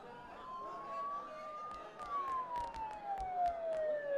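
A police siren in Persona 4 Golden wails and slowly sweeps in pitch at moderate distance, with scattered clicks and thumps over a steady background.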